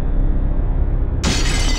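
A glass car windshield shatters with a loud, close burst of breaking glass that hits abruptly and keeps ringing in a bright crash to the end.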